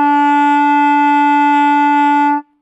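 A single sustained clarinet note, played by a fifth-grade beginner fingering with thumb and pointer finger, rings steady and loud for over two seconds before stopping cleanly.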